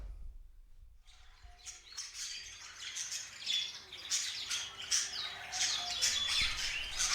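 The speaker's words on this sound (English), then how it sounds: "I don't remember the audience being birds" Birds squawk and chirp in dense overlapping calls that start after a second of near silence and swell into a busy, fairly close chorus.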